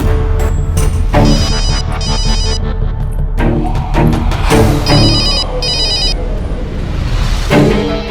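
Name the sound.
mobile phone ringing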